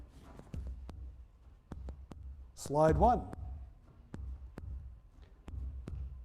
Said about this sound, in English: The headphones are amplifying their heartbeat.